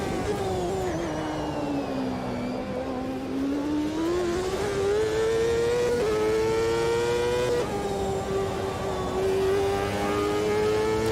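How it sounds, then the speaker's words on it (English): Mercedes race car engine in Automobilista 2 at Road America, revving steadily as a smooth, continuous high engine tone that rises and falls with gear changes, loud and close, without talk. "So the Mercedes engine, once it's up to speed, sounds quite a bit smoother than the Ford version"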